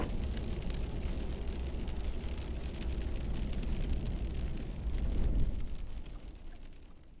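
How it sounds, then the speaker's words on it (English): Steady rain pours down at an Interstate 11 road construction site near Kingman, Arizona, a dense continuous hiss with low rumble underneath that swells briefly toward the end, with no voices. "I think this rain is putting an end to it here"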